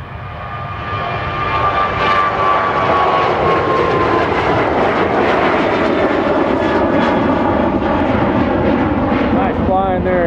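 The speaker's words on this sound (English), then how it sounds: "The first plane is a Southwest Airlines Boeing 737, 35 right, the magic moment," A Southwest Airlines Boeing 737 jet takes off from runway 35 right at Austin-Bergstrom in Texas, its loud, steady engine roar building within the first second and holding strong throughout, with a person talking over it.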